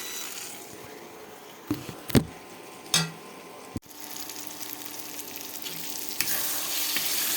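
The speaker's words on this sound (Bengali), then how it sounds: "আর একটু নেড়ে নিই তারপরে দেবো।" Chicken pieces with garlic and spices fry in a pan and get stirred, a steady sizzle broken by a few sharp scrapes and clatters of the spoon, then the frying swells louder toward the end.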